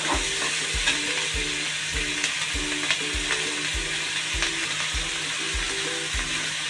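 Green chillies sizzle in a hot pan while being stirred, a close, steady frying hiss broken by regular scraping strokes of a spatula roughly every half second.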